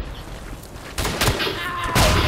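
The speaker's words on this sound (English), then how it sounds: "I just threw a grenade by accident." A grenade blast in the World War I shooter Verdun, heard as a couple of sharp thumping bursts in the second half, with faint gunfire around them and a voice briefly in the background.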